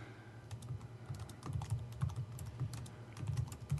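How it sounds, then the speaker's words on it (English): Fingers typing steadily on computer keyboards, a continuous patter of quick clicks and taps at close range with no voices. "Us typing away."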